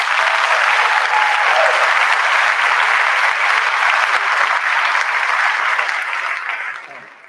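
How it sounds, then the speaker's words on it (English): An end-of-year staff celebration gives retiring staff member Joel a round of applause, a dense burst of clapping from a room of people that holds steady for several seconds before tapering off. "Let's give Joel a round of applause."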